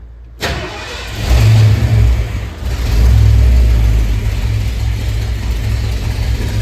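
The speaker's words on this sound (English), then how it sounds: "We turn the key. Should fire up. I might need to wiggle the pedal a little bit." A Ford Bronco engine cranks and fires after a moment of quiet, then settles into a loud, close rumble with two swells of revving from light throttle blips, carrying on as a steady uneven idle.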